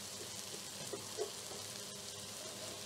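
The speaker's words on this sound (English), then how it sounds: "And we want to fry that a little bit to release the flavors." Paprika, cumin, black pepper and mustard powder frying in a pan: a faint, steady soft sizzle with light crackles, heard alone.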